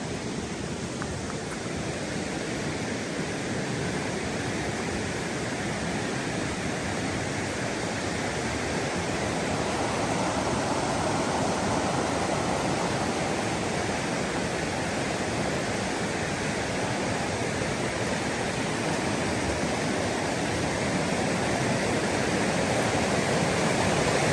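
Creek water rushing steadily after the Hurricane Helene flood in Old Fort, North Carolina, a dense, unbroken roar close by that holds nearly constant and swells slightly toward the end.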